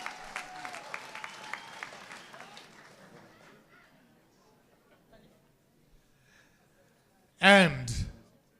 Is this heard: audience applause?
yes